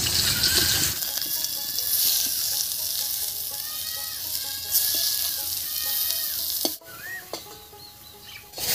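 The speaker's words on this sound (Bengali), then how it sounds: "এবারে উল্টে পাল্টে বেগুনগুলোকে বেশ লাল করে ভেজে নেব।" Eggplant pieces sizzle in hot mustard oil in a wok and are turned now and then, with a steady loud hiss and the occasional clatter of a spatula.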